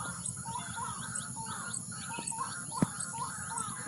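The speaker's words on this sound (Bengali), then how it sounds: "পাখির ডাক কীরকম একটা ডাকছে।" Birds calling from bushes in a Sundarbans mangrove setting, repeated chirps and short call phrases over a steady insect-like drone, moderately near, with one brief knock partway through.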